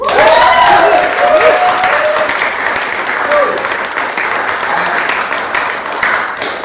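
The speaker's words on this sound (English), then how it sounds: "So please make him feel welcome and make some noise for James Scott Howe." A crowd applauds loudly and steadily throughout, with cheers and whoops rising over the clapping near the start.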